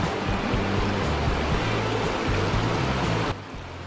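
A fast-flowing small river rushes across a road at a shallow ford, a loud, steady roar of churning water that stays constant from start to end and eases slightly at the very end.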